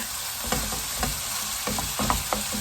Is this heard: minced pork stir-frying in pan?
yes